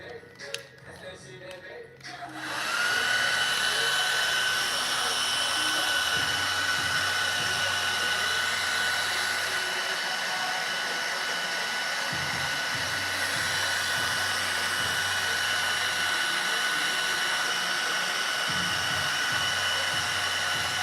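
A handheld hair dryer runs loud and steady for nearly the whole stretch after a fade haircut, its whirring blast starting a couple of seconds in with faint background talk at the start.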